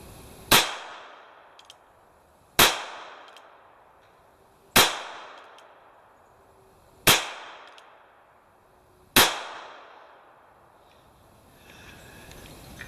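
Five loud, crisp cracks from a tiny single-action NAA North American Arms .22 mini revolver, evenly spaced about two seconds apart, each with a short ringing decay outdoors and no talking between.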